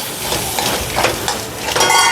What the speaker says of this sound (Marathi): तर बघा झाकण काढून बघूया.